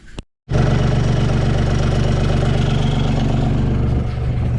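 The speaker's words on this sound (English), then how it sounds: "Right, so we got the engine back on." Diesel marine engine running steadily after being restarted, a loud continuous low throb with rhythmic knocking pulses, starting abruptly after a brief silence and holding near and steady throughout.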